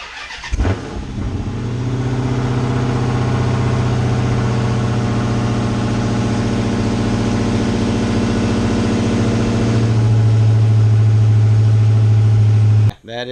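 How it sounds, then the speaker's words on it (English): A stock Dodge Hellcat fires up from a cold start with a sharp bark, then settles into a loud, steady, rumbling idle that holds throughout before cutting off abruptly at the end. "we're going to do a quick cold start video of the car. It is extremely loud,"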